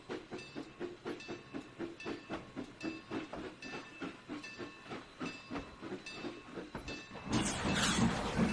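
A train moves a cut of boxcars in the Trainz 2019 simulator on the C&O Hinton route, with a steady rhythmic chugging pulse that gives way to a loud burst of hissing at the end.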